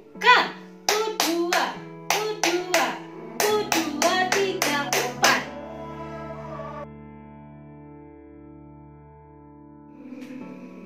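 Scout children at an Indonesian school clap the quick rhythmic Pramuka pattern in bursts of sharp hand claps, then a sustained tone rings out and fades.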